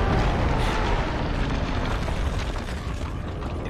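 A grenade explosion in the Siren Head movie, heard as a steady, dense rumbling roar of blast and debris that stays loud throughout and slowly fades, with no voices.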